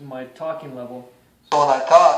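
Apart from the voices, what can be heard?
None of the usual background noises is heard.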